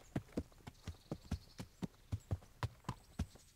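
Horse hooves clip-clop in a steady walking rhythm, about a dozen clear hoofbeats, faint and alone in the medieval video game Kingdom Come: Deliverance.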